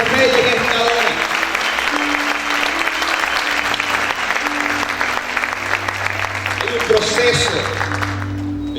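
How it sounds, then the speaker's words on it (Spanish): A church congregation claps loudly and steadily through worship, dense applause running throughout with music and voices underneath. "Vamos a aplaudir fuerte."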